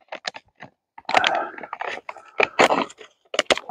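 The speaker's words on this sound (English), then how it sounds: "I'm going to tear the bag open a little bit." A bag being torn open, heard as close, loud bursts of crinkling and ripping in short irregular clusters with brief pauses between them.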